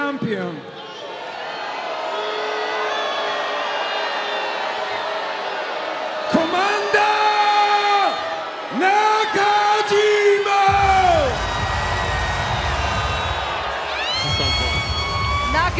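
A packed wrestling arena crowd at a Sukeban event in Los Angeles yells and cheers loudly, with sustained shouting voices rising in waves and a roaring wash of noise throughout.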